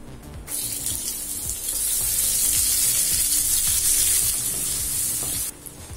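Onion frying in a pan for brinjal chutney, a loud hissing sizzle that swells as it hits the oil and holds steady, close with faint stirring and no speech.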